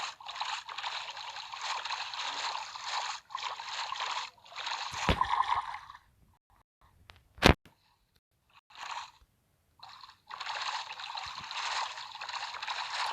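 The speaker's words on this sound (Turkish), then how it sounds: "tekne biraz hızlı da yani çok da hızlı değil yani" A boat glides across water in Minecraft, making bursts of rough, splashing paddling noise that stop and start, with a quiet stretch broken by a single sharp click in the middle.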